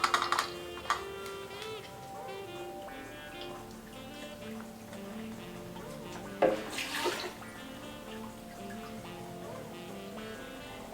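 Three cups of water poured into a blender while making a tofu-à-la-king sauce: a steady watery splashing and trickling runs under background music, with a brief louder gush midway.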